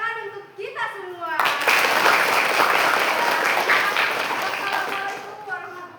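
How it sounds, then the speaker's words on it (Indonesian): An audience at a youth health career outreach talk bursts into dense, loud applause that swells and holds for several seconds before fading, with a voice speaking just before and after it. "Tepuk tangan untuk kita semua"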